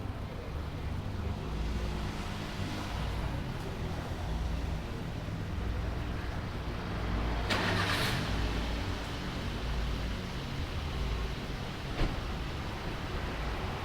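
A car engine idles steadily while the air-conditioning blower runs at maximum on max cool, a continuous broadband whoosh over a low engine rumble, with a few brief clicks.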